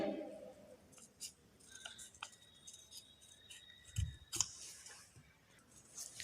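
Scissors snip through paper while cutting out small flower petals, a few soft, quiet cuts with faint handling noise in a hushed room.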